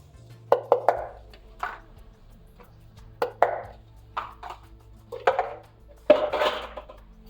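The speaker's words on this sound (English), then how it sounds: "Whisk this to combine" Dry cake ingredients for a chocolate mint chip cake whisked in a bowl, producing a series of light, uneven clinks and scrapes of the whisk against the bowl, close and quiet with pauses between strokes.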